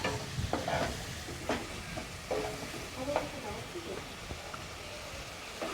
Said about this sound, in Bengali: এবার এতে মশলাটা একটু ভালো করে কষাতে হবে।